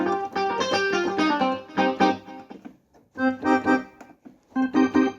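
A synthesized keyboard tone from a KORG EK-50, set to a custom sound, plays in short phrases of sustained, bright notes with clear pauses between them, nearby and alone.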